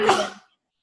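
A single short, sharp sneeze bursts out close by, fading within half a second into silence.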